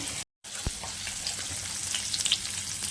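Onions sizzle in two small spoons of hot oil for a mango sardine curry, giving a steady, close frying hiss that cuts out briefly near the start and then continues evenly.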